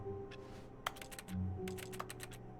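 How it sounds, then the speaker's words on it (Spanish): Rapid keyboard typing in the video game The Stanley Parable: Ultra Deluxe, triggered by pressing E, comes as a flurry of crisp close key clicks in short bursts with brief gaps, over a faint low hum. "en este juego si apretas la E suena como si estuvieras tocando un teclado"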